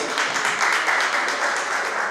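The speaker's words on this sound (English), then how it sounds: "a round of applause for our president" A crowd applauds steadily, dense clapping filling the room without pause for a couple of seconds.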